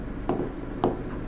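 Chalk or marker writing on a board during a biology lesson, two short scratchy strokes standing out over a steady low room hum, close and moderately loud, with no talking.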